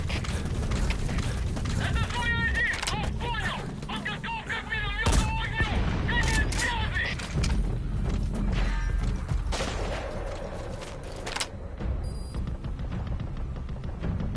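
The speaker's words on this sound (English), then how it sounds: "keep shooting me!" Enemies fire guns at the player in a Metal Gear Solid game, with sharp shots and bursts ringing out over busy game sounds, voices and a low rumbling bed.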